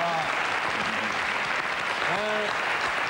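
A television studio audience on a French entertainment program applauds a newly introduced team member, with continuous clapping and a voice speaking over it.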